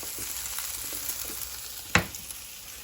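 Bacon frying in a pan on a stove top, a steady soft sizzle with light crackles and one sharper spatter near the end, close and without talk.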